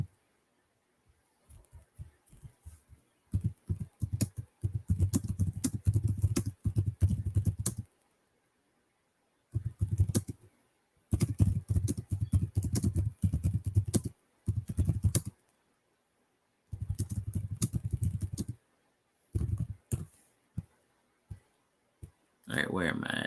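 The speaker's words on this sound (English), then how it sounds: "y'all hear me typing in the background" Computer keyboard typing comes in quick bursts of close clicking and pattering, separated by silent pauses, with talking in between.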